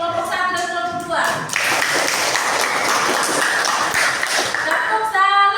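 A grade 8 junior high school class in Indonesia claps for groups 1 and 2, a lively burst of many hands clapping for several seconds, with a teacher's voice and pupils' chanting heard at the start and end.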